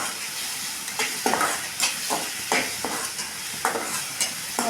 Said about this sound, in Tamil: நல்லா வதக்கிடலாங்க